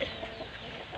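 A pet chicken gives a few soft, quick clucks close by over a low background murmur, all within a single brief moment.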